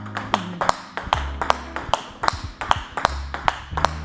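A table tennis ball strikes a racket with slightly soft sponge about a dozen times in a steady rally rhythm, each hit a crisp, close pop with brief low thuds between.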